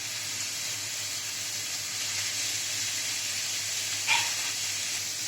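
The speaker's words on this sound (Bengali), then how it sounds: "রসুন পেঁয়াজ আমার ভাজা ভাজা হয়ে গেছে। এবার আমি এতে দিয়ে দিলাম গাজর।" Carrots hit a pan of fried chopped garlic and onion for pointed gourd dolma, giving a steady, even sizzle and hiss throughout, with one small clink near the end and no voices.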